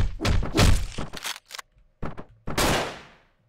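Gunfire from the video game Hotline Miami 2 comes as several sharp, loud bursts separated by short silences, ending in a longer blast that fades out.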